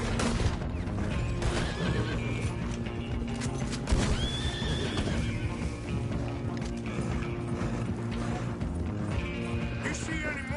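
Horses in a video game neigh and whinny over steady clip-clopping hooves, with game music and a voice talking throughout a busy, continuous mix.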